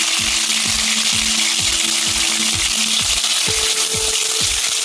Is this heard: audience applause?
no